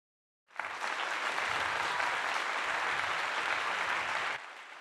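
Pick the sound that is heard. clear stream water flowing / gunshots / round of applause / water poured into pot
round of applause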